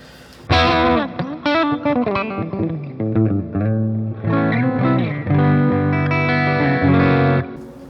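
Spacey modulated electric guitar tone through a Donner Pocket Go pocket amp with tremolo and distortion effects, a strummed chord phrase ringing out loud with wide chorus-like shimmer and reverb, no talking.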